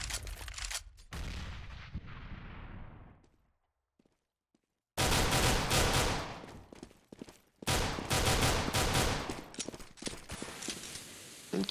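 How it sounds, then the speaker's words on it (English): Rapid P250 pistol gunfire in a Counter-Strike match: a burst of sharp shots opens, fades into near silence, then loud clustered gunshots and firefight noise return and run close through the rest. "Kiyoshima takes point with a P250 and gets a really lucky headshot onto Dots as well"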